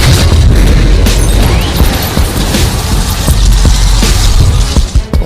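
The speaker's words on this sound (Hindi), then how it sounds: "हुआ एक जोरदार धमाका।" A bomb goes off in a suicide attack in 1991. A loud, close blast fills the whole clip with deep booming rumble, and crackling and debris-like bursts follow it.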